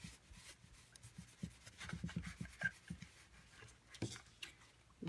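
A paper towel rubs across embossed glossy cardstock treated with shimmer resist, producing soft, continuous scratchy scrubbing strokes, faint and close.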